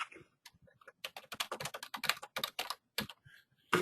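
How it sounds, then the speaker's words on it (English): Typing on a computer keyboard: a quick run of close, crisp key clicks in irregular bursts, a few soft taps first, then steady rapid strokes, with brief pauses and no talk. "I type it in"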